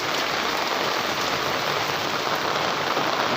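Steady heavy rain pours down outside during a flood in a residential area, a dense, loud, continuous hiss of drops striking surfaces with no pauses or voices.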